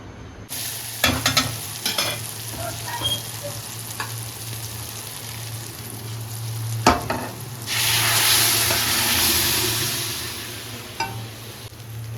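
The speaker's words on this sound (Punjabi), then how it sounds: "ਇੱਧਰ ਲੱਗ ਗਿਆ ਸਾਡਾ ਦਾਲ ਨੂੰ ਤੜਕਾ" A tadka for dal sizzles in a pan, with intermittent stirring clinks near the start and a louder burst of frying hiss partway through, all close and without talk.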